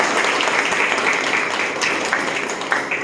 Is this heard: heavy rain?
no